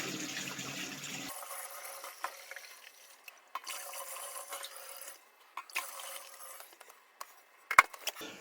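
Tap water running to fill containers on a home-brewing day, heard as a soft broadband rush in several stretches with pauses and occasional clunks between them.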